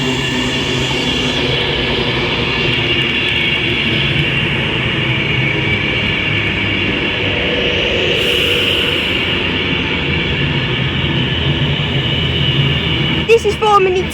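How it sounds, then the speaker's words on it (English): An Avanti West Coast train at Warrington Bank Quay station: a loud, continuous rumble and whine of the train passing or idling close by, with a brief clatter near the end. "This is forming the 10:26 Avanti West Coast service from London Euston to Blackpool North."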